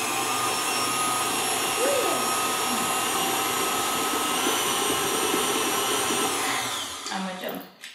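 An electric stand mixer whirs steadily while beating vanilla cupcake batter in a kitchen, a loud continuous motor drone with a brief voice under it, then spinning down and stopping at the end.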